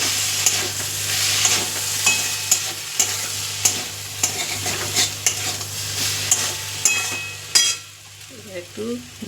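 Prawn and watermelon rind curry frying in a pan, a steady sizzle with repeated sharp spoon scrapes and taps against the pan, stirring fading toward the end.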